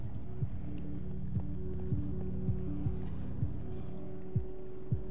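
Periodic soft hoof-like thuds from horses in the video game Minecraft: Story Mode, evenly spaced across the stretch over a low steady hum, with no talking.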